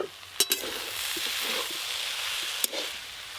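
Water spinach sizzles and fries in a pan with a steady hiss, punctuated by a few sharp scrapes and clicks of the spatula as it is stirred; close and fairly quiet, with no voices.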